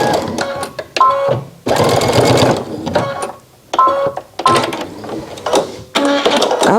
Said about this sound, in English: I'm not quite used to my new sewing machine